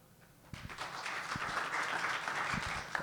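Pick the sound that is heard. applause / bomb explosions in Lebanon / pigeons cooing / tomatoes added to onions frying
applause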